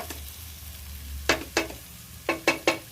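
A breakfast mixture for children cooks in a pan with a soft background sizzle, punctuated by five sharp scraping stirs or mashing strokes clustered near the end, with no talk.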